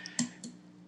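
Mouse clicks while logging in to SimpleHelp remote-support software, two or three sharp, close, quiet clicks in under a second over faint room hum.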